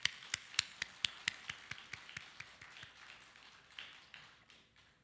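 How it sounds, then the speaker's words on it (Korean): A church congregation at a special early-morning prayer service claps in a quick burst of sharp, evenly spaced claps that soon thin out and fade into softer scattered clapping, with no talking. "박수로 모시겠습니다."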